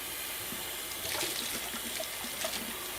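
Coffee dosing cups being washed under a running kitchen tap, a steady hiss of flowing water with faint splashes and clinks as the cups move beneath the stream, close and continuous without talk.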